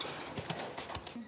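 A donkey's hooves clop as it walks up in Spain, several soft uneven footfalls at close range, fairly faint.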